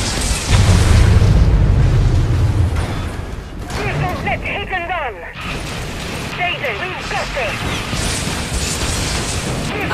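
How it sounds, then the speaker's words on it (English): Nuclear warhead explosion in the video game C&C Rivals: a loud, deep boom opens the clip and rumbles for a few seconds, then gives way to clattering battle effects and bursts of game voice lines. "Warhead launched."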